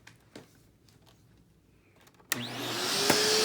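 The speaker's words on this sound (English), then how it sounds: "very smooth running vacuum. This thing is extremely powerful." A Dirt Devil Ultra MVP 089200 upright vacuum switched to tool mode starts up after a quiet stretch of faint handling noise, then roars loudly and steadily with a rising high whine through to the end.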